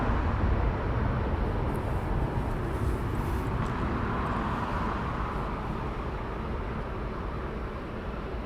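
A DHL cargo aircraft at East Midlands Airport sits preparing to taxi, its engines making a steady, broad roaring hiss at some distance that holds constant throughout.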